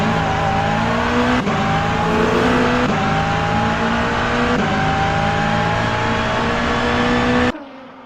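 GT3 race cars in an SRO endurance championship brake into a turn 1 hairpin: loud, sustained engine roar with shifting pitch and gear changes, then an abrupt cut-off near the end.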